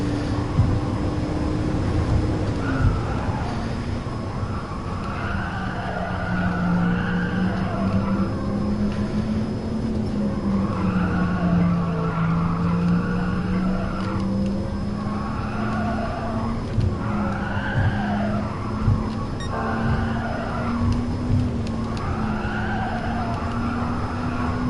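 Car braking hard in Gran Turismo Sport time trials with a Porsche Taycan or Lancia Delta, a continuous tyre squeal wavering in pitch over a steady engine and road drone, loud and sustained.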